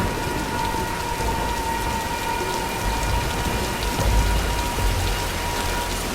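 A storm in the video game Tomb Raider Definitive Edition: steady heavy rain pours across surfaces while low thunder rumbles swell underneath, loud and continuous with no voices.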